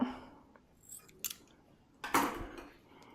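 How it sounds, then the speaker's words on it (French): Scissors cut yarn at the end of a bind-off on an LK150 knitting machine, with a few sharp metallic clicks and one louder snip, close and alone in a quiet room. "Et quand j'arrive au bout, je coupe mon fil."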